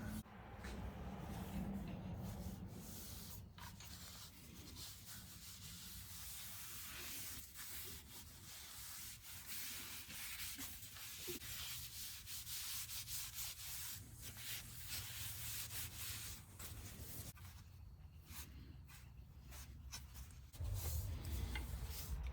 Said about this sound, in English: that's really like 5-10 minutes of sanding by hand, no power tools